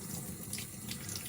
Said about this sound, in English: I'm rinsing off and turning it.